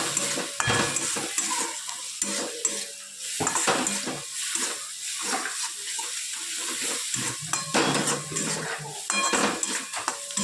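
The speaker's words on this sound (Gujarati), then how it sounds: "શેકી આ મસાલો સરસ શેકાઈ ગયો છે." A spice masala of chili, turmeric, coriander-cumin, asafoetida and salt is roasted in a pan, with a spoon scraping and clinking against metal in irregular bursts over a soft sizzle, close and clear, without speech.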